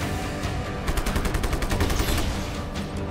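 Rapid gunfire in Just Cause 3, a dense burst of fast repeating shots rattling through a continuous noisy game soundscape for a few seconds, with no talking.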